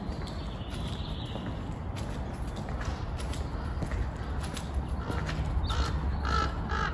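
Crows cawing in a cemetery, several harsh calls scattered across the outdoor background, moderately distant over steady wind-like noise.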